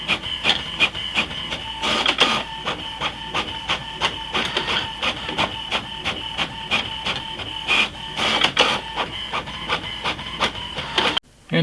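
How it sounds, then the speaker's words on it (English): An HP OfficeJet 5740 inkjet printer runs a print job, with a rapid, regular pattern of mechanical clicks, whirs and carriage passes, fairly quiet and close, with no talking. "And we are printing."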